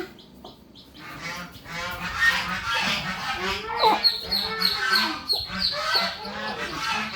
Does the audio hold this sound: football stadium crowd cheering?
no